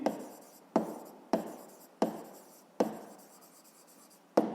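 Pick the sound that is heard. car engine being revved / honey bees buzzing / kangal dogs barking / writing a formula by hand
writing a formula by hand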